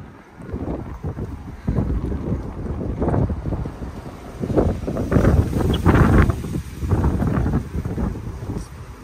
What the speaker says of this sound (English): apologies if the wind does get in the way of the audio